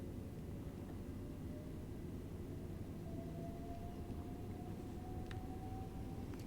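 A Class 378 Capitalstar electric train runs on the West Coast Main Line in Train Simulator, heard through an open window. It is a faint, steady low rumble with a thin whining tone drifting upward, and no voices.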